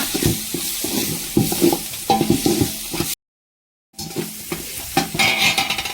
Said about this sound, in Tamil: எல்லாத்தையும் மிக்ஸ் பண்ணிக்கலாங்க.